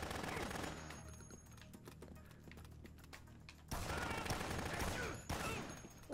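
Gunfire in the video game Dead Rising crackles in rapid volleys over a dense game soundscape, rising into louder, fuller bursts in the second half.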